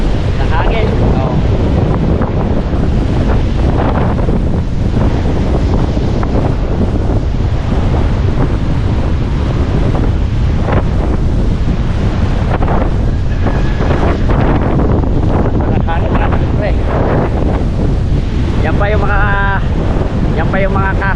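Strong wind blows hard by the sea, roaring steadily across the microphone with surf and waves beneath, loud and continuous for about twenty seconds, with faint voices now and then.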